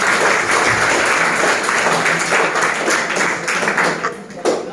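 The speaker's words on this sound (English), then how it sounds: "Okay, clap for him." A classroom of students claps for a classmate, a dense, steady burst of applause close by that tapers off near the end, with no talk over it.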